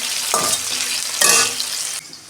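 Salted potatoes fry in a pan for a vegetarian gram-flour dish, giving a steady close sizzle with louder bursts of crackle as they are stirred, no talking over it.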